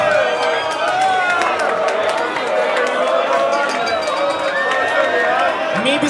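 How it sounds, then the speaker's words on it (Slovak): Spectators at a university slap-contest event cheer and clap, with sharp scattered claps cutting through a continuous noisy mix of shouting and excited voices for several seconds. "Veľký potlesk."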